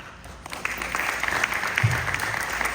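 Audience members at a Philadelphia budget town hall clap in a thin, scattered round that swells slightly, with a brief low murmur of voices partway through.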